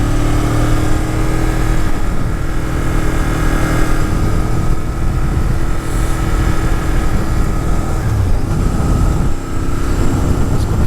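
A Honda Firestorm (Superhawk) VTR 1000 V-twin motorcycle on a test ride gives a loud, continuous engine roar with heavy wind rush, close and steady throughout, no talk.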